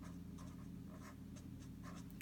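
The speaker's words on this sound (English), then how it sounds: "So you can even write with the tip" Pen tip scratching across paper during a craft session, faint short strokes in an irregular rhythm over a low steady hum.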